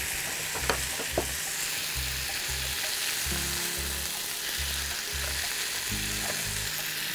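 Pomfret fish fries in a pan with a steady, loud sizzle and crackle, with soft rhythmic clunks of the pan underneath; no one talks.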